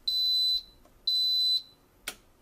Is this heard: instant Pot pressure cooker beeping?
yes